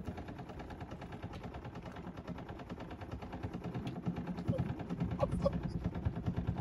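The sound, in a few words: sailboat engine running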